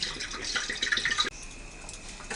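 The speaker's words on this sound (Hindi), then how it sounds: "इसमें मैं डालूंगी 1 कप पानी।" Water poured into a curry pan of peas and potatoes, a steady liquid splash close by for about a second before the flow stops and a softer trickle continues.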